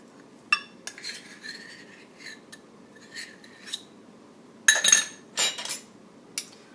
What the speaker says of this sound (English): We're going to take just a regular spoon, get that in there.